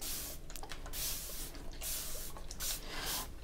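Spray bottle misting water onto watercolor paper, several quick hissing bursts of spray in close succession, near and fairly loud, with no talking.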